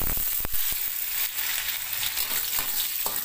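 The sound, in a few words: stir-frying bitter mustard greens with anchovies, garlic and chili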